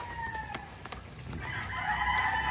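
Hens and roosters at a gamefowl farm in Maragondon, Cavite cluck and call in scattered bursts, with a rooster's drawn-out crow rising in the second half, fairly close.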